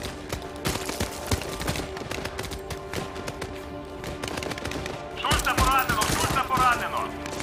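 Machine-gun fire in a war shooter game: rapid bursts of shots rattle throughout, with a louder, denser stretch near the end as voices shout over the gunfire.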